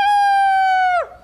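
A person imitates a rooster crowing with a single loud, steady, drawn-out voiced call that holds level for about a second, then bends down and fades out.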